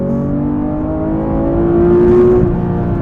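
A stick-shift Porsche 911R with a 500-horsepower engine and 8,500 RPM redline holds a steady, loud rev, the tone climbing slightly and swelling toward the middle before easing off, heard alone without talk.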